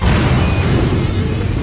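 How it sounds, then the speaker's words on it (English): A dramatized explosion effect in a Tokyo Babel audio drama: a dense, loud rumbling blast that fills the whole moment with sustained low booming and crackling, no voices over it. "Raziel flinched at another explosion behind us."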